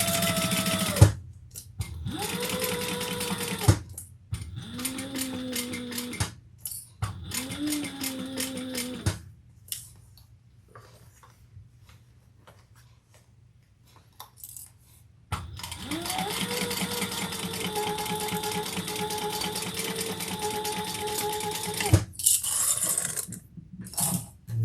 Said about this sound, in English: we're going to sew that seam together at the seam allowance in the pattern